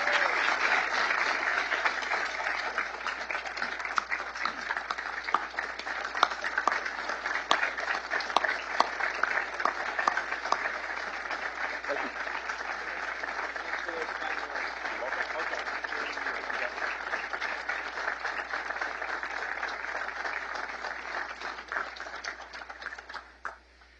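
A large audience applauds continuously as Vice President Mike Pence is welcomed to a Washington, D.C. conservative think tank, a dense sustained clapping that slowly fades near the end.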